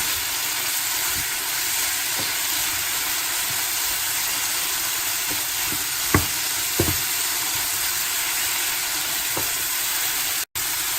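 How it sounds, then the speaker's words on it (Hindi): Tomato masala for mutton curry fries over a high flame with a continuous hissing sizzle, joined now and then by a few soft stirring clicks and one brief dropout near the end. "हमने फ्लेम को हाई रखा है। इसे अब हम और थोड़ी देर भूनेंगे।"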